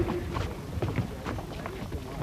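Horses arrive at an outdoor historical pageant in Saverne, their hooves clip-clopping in an irregular rhythm amid crowd noise and a voice over loudspeakers.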